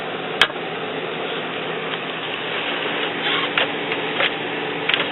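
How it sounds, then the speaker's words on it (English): Epson WorkForce WF-3530/WF-3540 inkjet printer with a continuous ink supply system running a nozzle check: a steady mechanical whir with soft ticks and one sharp click near the start, a few light clacks toward the end, heard alone at close range. "just ran a nozzle check after installing the system."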